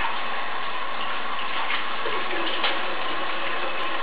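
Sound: running tap water washing spinach

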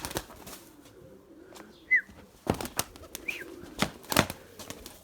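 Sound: white pigeons flying, flapping wings

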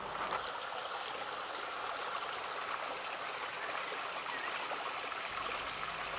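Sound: flowing mountain stream, Pa Thiên stream

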